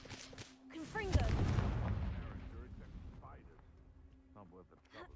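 A Confringo blasting spell goes off in Hogwarts Legacy as a heavy, rumbling blast that swells and fades over a couple of seconds, mixed with in-game voices talking around it.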